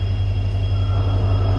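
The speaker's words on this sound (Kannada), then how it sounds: "ಟ್ರೈನ್ ಬಂತು" A train at a railway station in Arsikere gives a loud, steady low rumble and drone with no voices over it, heard up close as it comes in.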